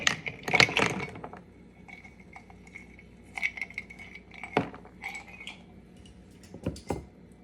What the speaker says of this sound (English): And then lastly, we're just gonna go in with some ice.